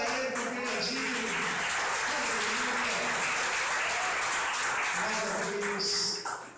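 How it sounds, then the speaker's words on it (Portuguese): Congregation applauding during a church worship service, a steady wash of clapping that runs throughout, mixed with a voice and sustained musical tones. "Aplauda ele, porque ele é digno."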